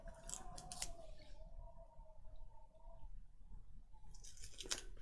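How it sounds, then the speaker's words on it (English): Scissors snip through paper craft material, cutting a piece in half widthways for a junk journal belly band, giving a few quiet crisp cuts near the start and end with a faint tone between. "So I'm going to cut it in half widthways."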